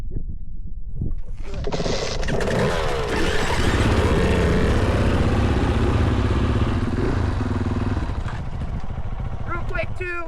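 An off-road dirt bike rides a beginner sand track, its engine buzzing loudly and continuously as it pulls through a gear change, close and clattery throughout.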